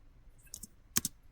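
A few quiet keystrokes on a computer keyboard during network setup, two small pairs of clicks about half a second apart, faint and close against a near-silent background.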